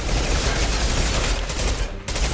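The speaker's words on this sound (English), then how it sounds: "Machine pistol, go." Rapid machine pistol fire from the Mass Effect video game rattles off in a dense, loud, continuous burst, with a brief dip near the end before the shots resume.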